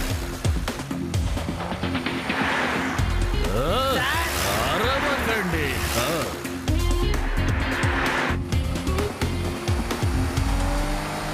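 Cartoon car noises from a newly built car in an animated Gattu Battu episode, with engine revs and tire squeals running continuously under a busy music and effects bed, while characters talk.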